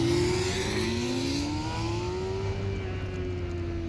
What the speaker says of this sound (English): learning to twist the throttle really hard when you accelerate in first gear